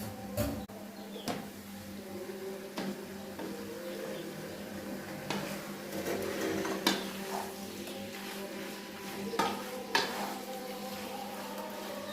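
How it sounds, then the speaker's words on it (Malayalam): Masala-coated chicken fries in hot oil over a high flame with a soft, steady sizzle. Now and then a utensil clinks and scrapes against the pan. "ഇപ്പം ഹൈ ഫ്ലെയിമിലിട്ടാണ് ചിക്കൻ ഒന്ന് വറുത്തെടുക്കേണ്ടത്"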